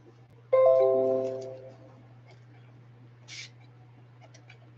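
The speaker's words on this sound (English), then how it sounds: "That sound you hear is my notifications on my computer." A computer gives a single short, tonal notification chime against a low steady background hum, with a faint click afterward.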